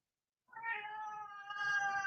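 A house cat meows once in a long, drawn-out, rising and wavering cry that starts after a brief silence and carries on to the end, close and fairly quiet, with no talking.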